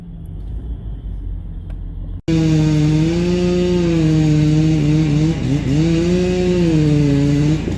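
Stihl chainsaw cutting: a low rumbling idle, then a sudden jump to a loud, sustained high-revving snarl as the chain bites, with brief dips in pitch under load.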